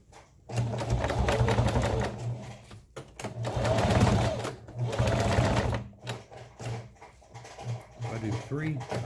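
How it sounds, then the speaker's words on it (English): A sewing machine stitches a rappel rope bag, sewing MOLLE webbing in place: loud, close runs of rapid mechanical stitching, separated by short pauses where the fabric is repositioned, with faint voice near the end. "Drop the pressure foot and go back at it."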